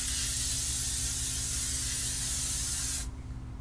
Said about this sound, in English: I'm just gonna go ahead and mist it on my face before I do like my mascara